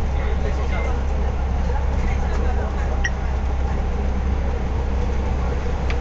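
Steady low engine rumble and road noise inside a moving bus in Hong Kong, continuous throughout, with faint background voices.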